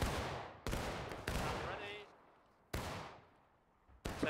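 Musket volleys crack out in War of Rights, four sharp loud reports spaced a second or more apart, each trailing off into a long fading echo, with faint voices audible in the gaps.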